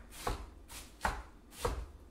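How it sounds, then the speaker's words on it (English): A knife chops an apple on a board for Irish soda bread, three separate close cuts spaced evenly, with no talk. "Not how good I am at apple chopping, but we're about to find out here."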